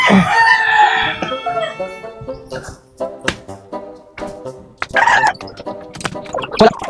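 Chickens and chicks call close by: a rooster crows at the start, then hens cluck in short bursts, with chick peeps and scattered handling knocks in between.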